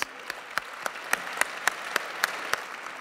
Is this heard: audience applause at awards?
yes